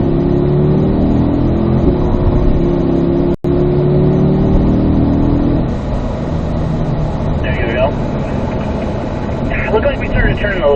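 A car accelerating in fourth gear on a race track at Spring Mountain's North Course, its engine drone rising steadily and loud, with a voice talking over it in the later part.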